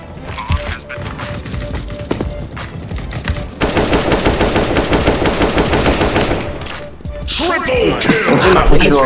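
Rapid automatic rifle fire rattles through a competitive CS:GO match, loud, dense bursts that run almost continuously for several seconds with brief pauses and overlapping shots.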